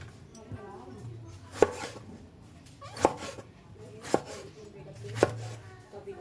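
Four knife chops on eggplant, spaced about a second apart, each one a crisp thud on a cutting board against a faint background hum.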